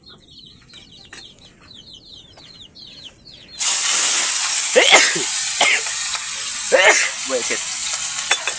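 After a few seconds of quiet with birds chirping on a farm, hot oil suddenly erupts into a loud, steady sizzle and pops as fish is fried nearby, with a brief spoken word.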